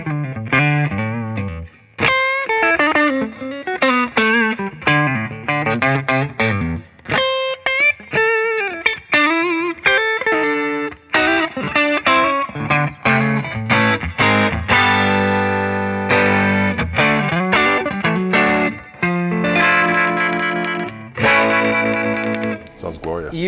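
An electric guitar plays through a Wildwood 45 RPM Sky 5E3 amp with the mids scooped, giving a blackface-style tone. Single-note lines and chords ring with some effect and echo, loud and close, and there is no speech.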